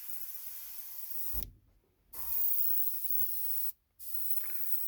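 An airbrush sprays undiluted ink straight from the bottle in a steady close hiss, broken by two short gaps where the trigger is released before the spray resumes.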